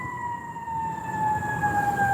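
Emergency vehicle sirens sound in a town street, a steady, slowly falling wail coming from some distance and growing slightly louder, with no voices over it.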